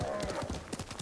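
A horse's hooves clip-clop at a steady trot in the Ghost of Tsushima video game, with a whinny mixed in and game sounds around it.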